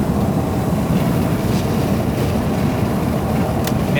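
Loud, steady wind roar buffets through the open windows of a BMW M850 with the V8 in sport mode near a tunnel, a constant broadband rush filling the whole clip with no speech.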